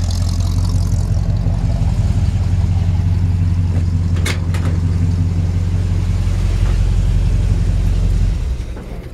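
A 1952 Chevy 3100 pickup truck engine runs loud and close, its exhaust giving a deep, steady rumbling idle with a brief sharp click partway through before fading at the end.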